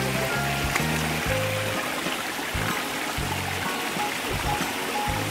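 Steady rushing of a mountain stream flowing over rocks near a waterfall, loud and close, continuous throughout with no voices.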